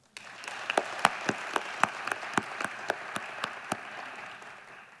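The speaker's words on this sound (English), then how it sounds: "Please join me in giving them one more round of applause." A school district audience applauds honored teachers at a teacher forum, a steady wash of clapping that holds throughout, with a few louder individual claps standing out near the front.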